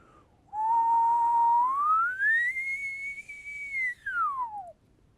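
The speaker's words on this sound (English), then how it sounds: "Isn't whistling fun?" A single person whistles one sustained, clear tone that holds steady, glides upward, levels off high, then slides back down, loud and alone against a quiet background.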